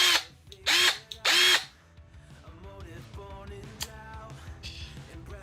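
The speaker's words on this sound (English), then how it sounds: "Impact drill with a scrubbing attachments and stuff." Impact drill with a scrubbing attachment gives three loud, short whirring bursts in quick succession, then falls quiet under a soft music background with small clicks and taps.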